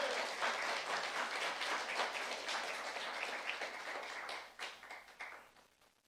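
A church congregation at a youth service claps together in steady, dense applause that carries on for several seconds, then thins out and tapers off at the end.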